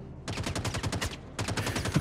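Rapid automatic gunfire from the video game Star Citizen, two dense bursts of shots separated by a brief pause, loud and close with no talking.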